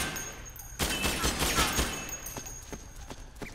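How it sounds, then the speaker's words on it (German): Gunfire from the video game Metal Gear Solid 4 on PS3: a rapid burst of shots followed by scattered single reports, with a person talking over the action. "Ein bisschen rumschießen, vielleicht passiert da was."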